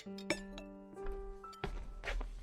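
Dishes and plates clink together while a family readies dinner in a Tagalog radio drama, with a few sharp clinks near the start and busier clattering later, fairly close and moderately loud with no talk.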